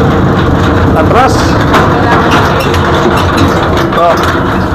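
A Rusi Chariot 175 motorcycle engine runs at a steady idle nearby, a constant mechanical drone with a rattly cover, while people talk over it.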